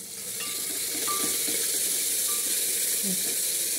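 Crushed garlic and green chili paste roasting in a pan with a little oil sizzles steadily and close, a soft continuous frying hiss with a faint clink or two of a spoon.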